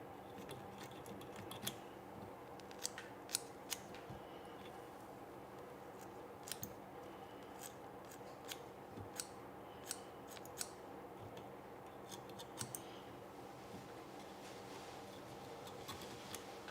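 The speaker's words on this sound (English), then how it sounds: "You definitely need a nice pair of scissors to be able to do this." Sharp scissors snipping and trimming fly-tying fibers, a series of small crisp clicks scattered irregularly over a steady low background hum, close but quiet.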